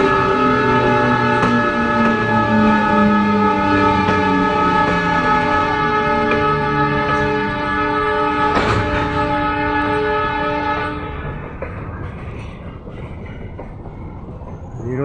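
An Indian Railways train hauled by a new WAG-class electric locomotive rolls into Sultanpur station, a loud sustained rumble with strong steady humming tones and wheel clatter that thins out and fades near the end.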